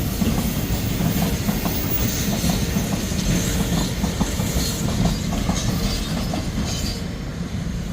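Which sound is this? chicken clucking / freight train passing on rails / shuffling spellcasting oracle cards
freight train passing on rails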